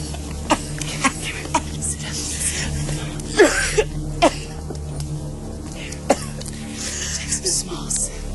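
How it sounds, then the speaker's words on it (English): A woman coughs hard and repeatedly in a dramatic film scene, with a series of sharp, harsh bursts and some throat clearing spread over several seconds, close and fairly loud against a low room background. "she's coughing, but she's coughing so bad."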